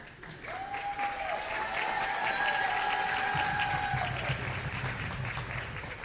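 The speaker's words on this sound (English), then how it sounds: "And a round of applause for Francis Waterman O'Connell, and Steve Cl" Audience applause at a school event, a steady, full round of clapping lasting several seconds with a thin high tone ringing over part of it.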